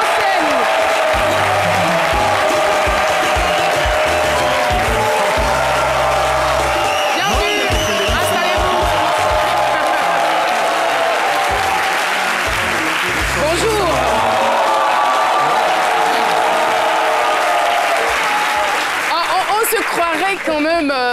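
Loud, sustained studio audience applause with cheering and whoops greets a special guest on a French-language midday TV show, continuing unbroken throughout with a host's voice speaking over it.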